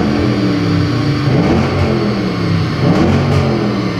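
Audi RS6 GT3 engine revving hard toward the red line, with repeated rising and falling revs that climb in pitch, loud and close, with no talking over it.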